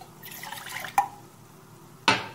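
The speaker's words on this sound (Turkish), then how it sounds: "1 su bardağı suyumuzu koyuyoruz" A glass of water is poured into a pot to start sugar syrup for semolina halva, a brief, close, faint splash followed by a couple of sharp clinks.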